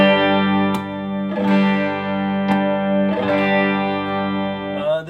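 Electric guitar played through a ParaSE amp sim on its 5F1 model at position 2, with slightly reduced bass and extra gain; sustained, distorted strummed chords ring out with a few sharp picked attacks, loud and alone.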